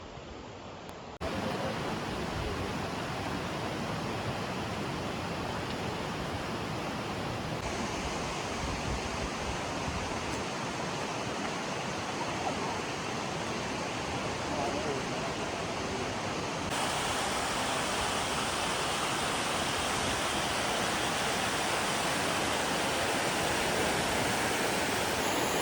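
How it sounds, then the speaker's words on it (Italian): Mountain streams of water rushing through a narrow, deep Dolomites canyon, a loud continuous roar with no pauses. "Eccoli qua i ruscelli d'acqua che adesso appunto vediamo così"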